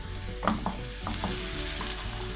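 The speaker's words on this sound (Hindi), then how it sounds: "और फुल फ्लेम पे इन्हें फ्राई कर लेंगे" Chicken egg fried rice ingredients fry on full flame in a pan, a steady close sizzle broken by a few clinks and scrapes of stirring and no voices.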